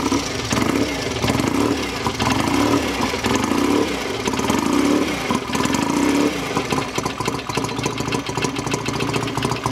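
A classic BSA motorcycle engine runs steadily up close, a loud, continuous throbbing idle with an even mechanical rhythm and no voices over it.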